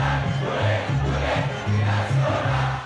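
A stadium crowd celebrates Atlético Nacional's title win in a Colombian football final, with loud, sustained cheering and chanting. The voices rise and fall in rhythmic swells, dense and close.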